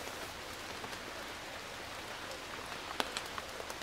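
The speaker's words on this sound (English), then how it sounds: "rain on the tarp again." Soft, steady patter of rain drumming on a tarp, a continuous hiss with a few sharper drips standing out near the end.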